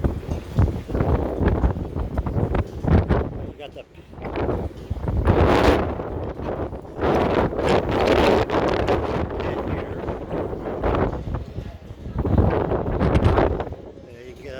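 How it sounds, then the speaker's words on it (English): Strong gusty wind on the deck of the cruise ship Norwegian Jade buffets the microphone in loud rumbling bursts while a person talks underneath. "Sorry if you have a hard time hearing me, it's a little windy out here."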